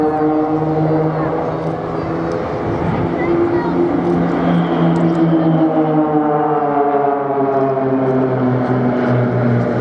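Blades display team aerobatic aircraft at a Scottish airshow in the FlightGear simulator, a loud sustained engine drone with steady tones that shift in pitch as the planes fly past, with a voice talking over it.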